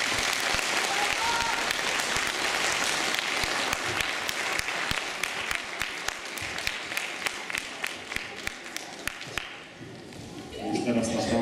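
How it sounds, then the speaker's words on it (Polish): Sustained applause from a large audience, dense clapping throughout that thins toward the end before a brief swell. "Jeszcze raz wielkie brawa."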